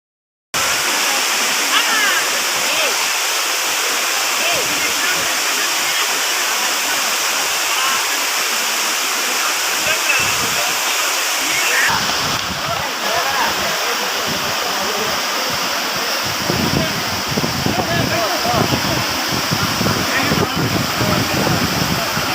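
Falling water at a waterfall in Munjuluru makes a loud, unbroken roar that fills the whole stretch. It sounds close and steady, with some soft voices under it.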